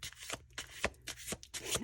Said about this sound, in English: I like shuffling these ones.